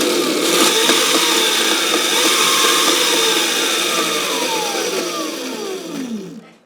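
A Razor Crazy Cart fitted with a 48V 900W upgrade kit revs loudly and close. Its high electric motor whine holds steady, then falls away in pitch as it winds down at the end.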